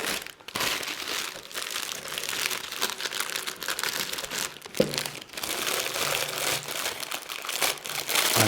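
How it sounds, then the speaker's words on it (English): Biodegradable cellophane being pressed into an old biscuit tin as a lining crinkles and crackles continuously, close and fairly quiet, with a few sharper crunches. "I'm just going to line it with some biodegradable cellophane"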